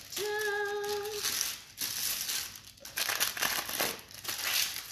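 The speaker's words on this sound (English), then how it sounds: "So you give it a scrunch and it stays." Baking paper being scrunched by hand, a close, continuous crinkling and crumpling that runs through the whole clip, with a short tone briefly audible near the start.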